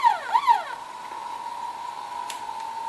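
A small electronic toy car sounds a warbling, siren-like tone that swoops a few times, then settles into a steady thin beep, fairly quiet with room noise.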